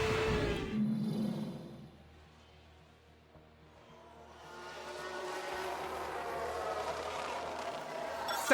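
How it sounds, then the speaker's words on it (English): Racing car in F1 Manager 22 locking its wheels under braking, a rising harsh roar and screech building from mid-distance over a steady low engine drone, with a brief whistle-like tone near the start. "Sounds like someone's locked up."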